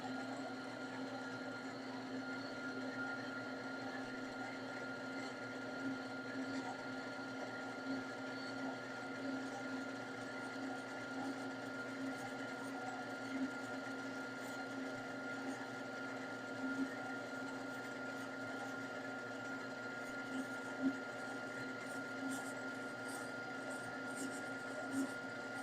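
A horizontal bandsaw cuts a slice from stock with a steady, even motor hum and blade whine that holds unchanged for the whole stretch.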